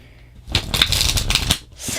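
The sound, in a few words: shuffling oracle cards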